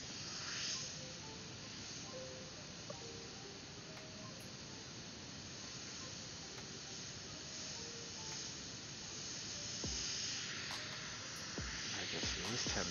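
An airbrush sprays lowrider-style paint onto motorcycle saddle bags, a faint, continuous airy hiss that stays low and even throughout, with a few soft clicks and thin tones in the background.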